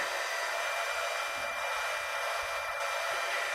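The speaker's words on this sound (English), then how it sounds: "Heating your heat gun up" A heat gun runs continuously in a crafting setting, a steady, fairly quiet airy blowing hiss that holds even throughout with no talk.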